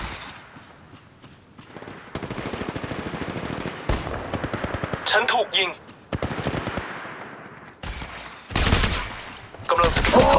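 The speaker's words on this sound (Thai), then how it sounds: "ฉันถูกพบแล้วกำลังโดนยิง" Video game gunfire from Apex Legends: rapid automatic bursts and scattered shots come in waves, some loud and close, separated by brief lulls, while a player speaks over the action.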